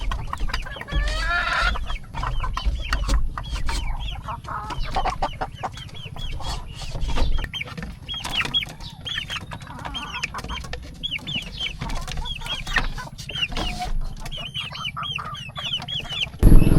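Pet chickens in Infanta, Quezon clucking close by, a busy stream of repeated clucks and chatter from several birds with occasional louder calls.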